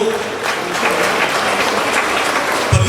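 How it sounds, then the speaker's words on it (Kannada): Loud, steady applause from an audience at the inauguration of a wildlife conservation campaign event in Dandeli, filling the clip without a break. "ಎಲ್ಲರೂ ಜೋರಾದ ಚಪ್ಪಾಳೆಯನ್ನು ತರಬೇಕು"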